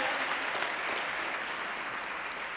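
A crowd at a national quiz final applauds the six finalists, a thick, continuous roar of clapping from a large audience, steady and even in loudness, heard alone without speech.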